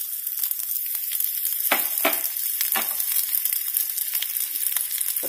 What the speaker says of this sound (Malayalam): അതിലേക്ക് 1/6 ചെറിയ ഉള്ളി ചെറിയ പീസാക്കിയതാണ്, അത് ഇതിലേക്ക് ഇട്ട് കൊടുക്കുക